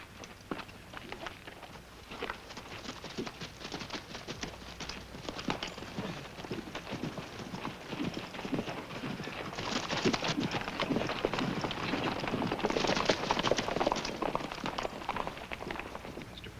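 Horses' hooves clip-clop steadily on a trail in a Western drama, a continuous patter of hoofbeats that grows somewhat louder and denser toward the end, with no voices present.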